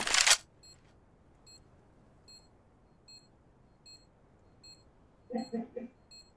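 A planted bomb ticking in CS:GO, evenly spaced high electronic beeps roughly every 0.8 seconds, preceded by a brief loud burst and followed near the end by a short spoken voice.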